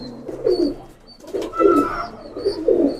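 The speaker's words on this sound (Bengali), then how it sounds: "আমরা একটু লাল পাড়ি কবুতরটা একটু ছাড়ি" A Lal Pari pigeon coos in repeated soft rolling phrases, about four close bursts in a steady rhythm, with a faint high chirp between them.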